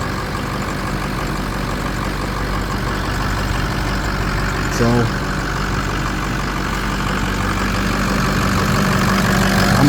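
A Ford 6.0 Power Stroke diesel truck engine idles steadily at close range, a loud, even low rumble and clatter with one brief spoken word midway.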